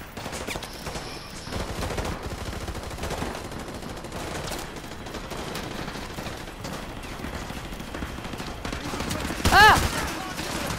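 Bursts of video-game gunfire from a war shooter crackle through a continuous, busy battle din, with a louder flurry of shots near the end.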